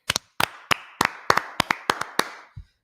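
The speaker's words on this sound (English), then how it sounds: "Clap it up for the Lord." A small group claps in praise for the Lord in a Brotherhood class, sharp close hand claps in a loose rhythm, about a dozen crisp bursts, some doubled, before stopping.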